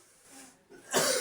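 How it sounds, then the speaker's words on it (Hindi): A man gives a short cough during a Class 10 trigonometry lesson, a faint breathy lead-in followed by one louder throaty burst, heard alone. "खांसी भी हो रहा है भैया"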